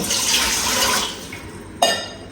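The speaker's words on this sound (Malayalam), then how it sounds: "ഒരു ചെരുവെടുത്ത് ഗ്യാസിൽ വെച്ചിട്ട് കുറച്ച് വെള്ളം ഒഴിക്കാം." Water pours steadily into a pot on a gas stove for about a second, then stops, followed by a brief metallic clink.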